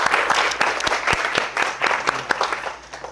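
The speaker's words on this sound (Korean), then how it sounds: "그분들께 박수 한번 부탁드리겠습니다" A seminar audience at a Korean Solidity blockchain class applauds the teaching assistants, a dense burst of many hands clapping close and fairly loud throughout, with no talk over it.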